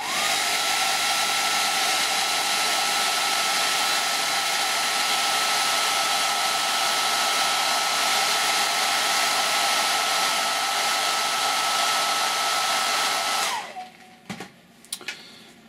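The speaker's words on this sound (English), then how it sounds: "quick blast with a hairdryer" A hair dryer blows with a continuous loud whooshing roar for most of the clip while drying a paintbrush, then cuts off, leaving a few faint clicks and handling noises.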